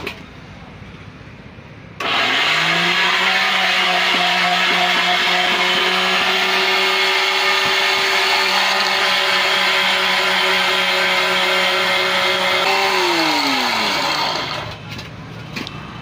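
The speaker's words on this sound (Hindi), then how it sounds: "फूड कलर शामिल करके दोबारा से ग्राइंड करते हैं।" Electric grinder whirring steadily as it grinds keema masala spices with food colour, starting abruptly, holding a loud even motor whine for about twelve seconds, then spinning down.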